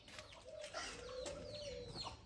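Farmyard hens near a brooding nest give soft, scattered clucks and short calls, fairly close and moderately loud, with faint background ambience and no talking.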